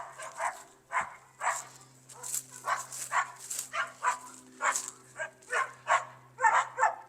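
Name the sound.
dogs barking in a country back alley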